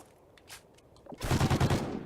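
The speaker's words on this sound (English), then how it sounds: "Nade shot finding the first bullet on Bam Bam" Close, loud burst of automatic gunfire in Call of Duty: Ghosts during a 4v4 Search and Destroy match, rapid shots packed into about a second after quieter scattered game noise.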